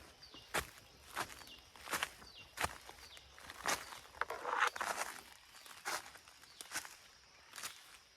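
Footsteps crunch through forest floor litter in a slow, regular rhythm of close individual steps, with soft rustling between them and no talk.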